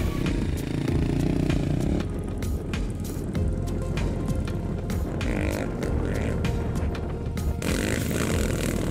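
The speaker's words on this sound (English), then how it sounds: "Bikers are enjoying riding on the dunes." Motorbikes ride over sand dunes with loud, continuous engine noise, gritty scraping and clatter, busy and close throughout with no talk.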